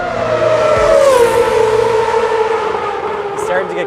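Red Bull Racing's RB8 Formula 1 car, driven on track by a sim racer, gives a loud, continuous high engine whine that dips slightly in pitch early on, then holds steady and close throughout.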